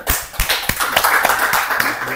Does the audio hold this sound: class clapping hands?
yes